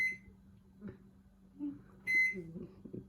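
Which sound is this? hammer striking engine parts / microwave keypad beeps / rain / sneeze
microwave keypad beeps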